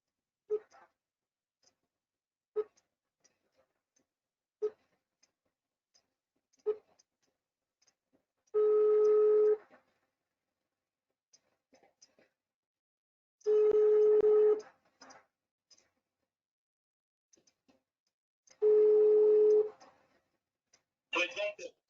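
Phone tones sound in a regular pattern: short periodic beeps repeating, broken by three longer ringing tones, with silence between.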